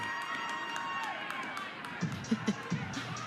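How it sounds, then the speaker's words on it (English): A home crowd at a college softball game between Tulsa and Oklahoma cheers at a distance, a murmuring roar with a few sharper shouts and claps toward the end. "You can hear her crowd, her home crowd here."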